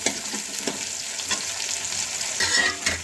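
Turnips frying in a pan with beets and chopped tomatoes, giving a steady close sizzle with a few louder crackling bursts and stirring scrapes throughout.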